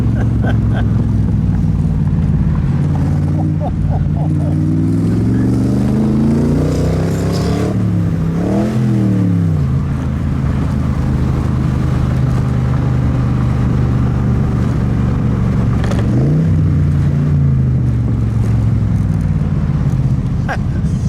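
A 1957 Devin S kit car with a Buick 215 aluminum V8 drives close by, its engine droning and rising and falling through gear changes and revs, with people talking over it.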